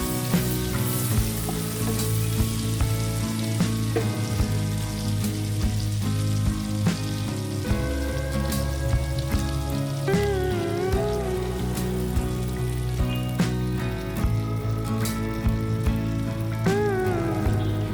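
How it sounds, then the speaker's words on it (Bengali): Spice water simmering with lightly fried garlic and chopped chili in a pan over a low gas flame gives a steady, continuous sizzle and bubbling close by, without speech. "মশলার জল অ্যাড করার পর যতক্ষণ না কাঁচা গন্ধ যাচ্ছে ততক্ষণ রান্না করতে হবে"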